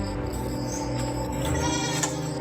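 A goat bleats in a wavering, drawn-out cry heard close and fairly loud against a dense, noisy background throughout.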